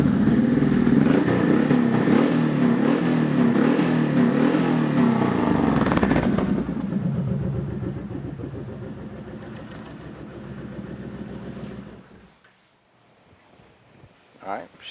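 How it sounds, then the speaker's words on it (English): A Honda VTX 1800 motorcycle engine runs loudly with uneven revving, then drops to a lower idle before cutting off, leaving near silence. "as I was doing that, I revved it up a few times"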